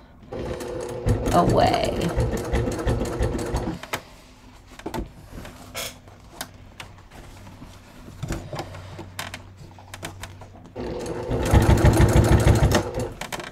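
A sewing machine stitches the seam of a leather crossbody bucket bag, with a loud rapid run at the start and another near the end. Someone talks quietly in the pause between them.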